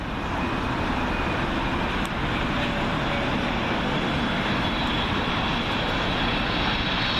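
A British Airways Boeing 777 in from JFK lands at Heathrow's runway 27L, a steady, dense rumbling roar of engines holding at a loud, even level throughout, mixed with a wash of road traffic and no talk.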